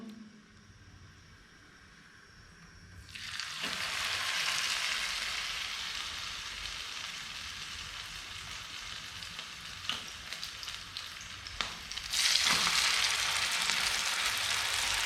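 Chicken pakoras dropping into hot oil, a loud, dense sizzle that swells after a quiet start and keeps bubbling steadily close by, with a fresh surge of frying near the end.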